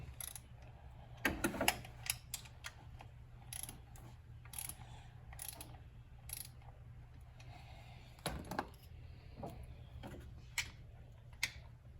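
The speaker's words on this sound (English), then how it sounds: "I'm going to use my ratchets just to snug it up a little bit beyond finger tight." Ratchet wrench snugging the bolts on a thermostat housing of a Jeep Wrangler JK with a Pentastar V6, giving several bursts of quick, close clicking spread over the stretch, with pauses and faint handling noises between them.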